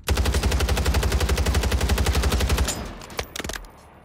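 Automatic gunfire from a gun in the video game Warzone: a loud, rapid, evenly spaced burst of about twenty shots lasting over two seconds, followed by a few fainter clicks and thuds as it stops.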